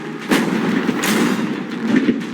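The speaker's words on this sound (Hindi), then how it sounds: "पहले बाकी शॉट्स फायर कर लेते हैं" Gunshots fired at a container holding about 500,000 dollars in cash, heard as a few loud, sharp reports spaced across a short stretch over a constant noisy background.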